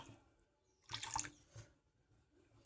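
Milk is poured into a pot while making vermicelli kheer, a faint, brief liquid splash lasting about half a second, followed by a smaller splash and quiet kitchen background.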